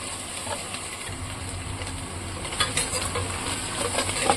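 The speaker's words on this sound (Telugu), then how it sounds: "నిమిషం పాటు వేయించాలి" Drumstick and mushroom curry fries in a pan with a loud, continuous sizzle and occasional scraping stirs, close up and without talk.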